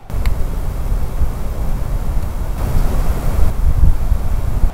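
Strong wind blows outdoors at a remote former battlefield site, a rough, continuous low rumble buffeting the microphone with gusty swells throughout.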